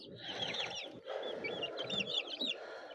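Brahma chicks being fed, their high repeated peeping chirps close by over soft scratching and pecking, with a brief pause before the chorus resumes.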